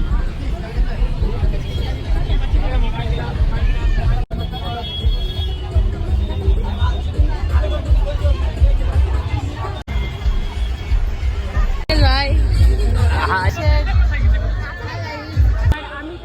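Dense festival crowd babble fills the air: many overlapping voices chattering at once, steady and close all around, with occasional traffic noise mixed in.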